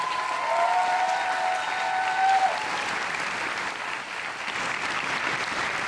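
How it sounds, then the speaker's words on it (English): Audience at a book launch for a novel clapping in a steady, moderate round of applause that fades slightly toward the end, with a brief held tone early on. "So maybe just one more round of applause for her marvelous"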